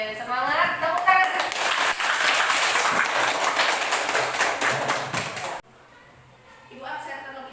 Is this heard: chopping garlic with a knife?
no